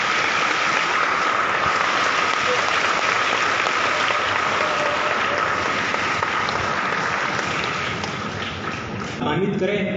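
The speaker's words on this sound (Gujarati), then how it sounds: "આપણે જોરદાર તાળીના સાથે અવિરત તાલીઓના પ્રવાહ સાથે તેઓનું સ્વાગત" An audience at a religious discourse in Rajkot welcomes a swami with sustained loud applause that fills the hall and fades slightly near the end.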